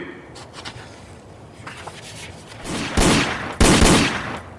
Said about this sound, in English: Hey, but these are shots.